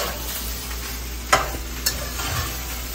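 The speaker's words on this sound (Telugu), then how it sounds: "వేసేసుకొని ఒక్కసారి మంచిగా టాస్ చేసేసుకోవాలి." Egg fried rice with chopped green onions being tossed and stirred in a hot pan, a steady soft sizzle broken by two sharp utensil scrapes, close and alone with no talk.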